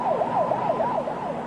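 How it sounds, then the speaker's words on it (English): A volunteer fire department's emergency vehicle siren wails in rapid rising and falling sweeps, close and loud over a steady engine and road rumble, with no voices. "The Spencerport Volunteer Fire Department was immediately dispatched to the scene, including Chief Gary Penders."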